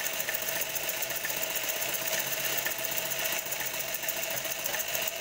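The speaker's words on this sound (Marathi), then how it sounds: "मी पहिली शिलाई मारून ठेवलेली आहे आणि दुसरी शिलाई कंप्लीट करत आहे" A sewing machine runs continuously while stitching fabric for gathers, a steady, fairly loud high-speed mechanical buzz with a rapid even needle rhythm throughout.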